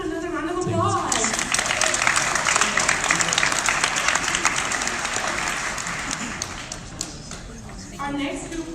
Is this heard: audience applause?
yes